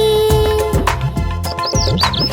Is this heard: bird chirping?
yes